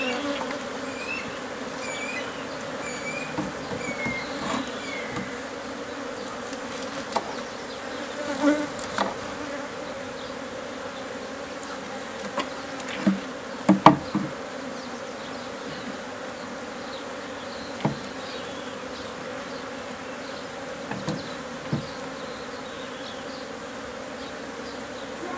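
A swarm of Africanized honey bees buzzes steadily and continuously while being captured, a dense droning hum that holds for the whole stretch, broken by a few soft knocks and clicks close by.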